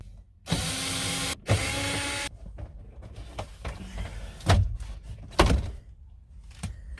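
A car door being worked loose and removed: two sustained harsh grinding or power-tool bursts, then a string of clunks, knocks and metallic thuds with two heavier bangs, close and fairly loud, with no talking.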